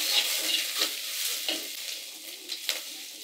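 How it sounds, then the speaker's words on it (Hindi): Chilli, garlic and ginger sautéing in a pan with onion, a steady bright sizzle with scattered sharper crackles and stirring scrapes throughout, close and fairly quiet, no voices. "अब सभी को अच्छी तरह से यहाँ भून लेना है।"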